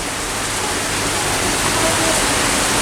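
Steady rain falls over a tram outing in Kolkata, a dense even hiss with no distinct drops, continuous and moderately loud throughout.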